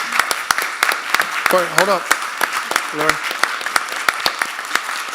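An audience at a school district board meeting gives a round of applause, scattered claps popping loud and close while people talk over them.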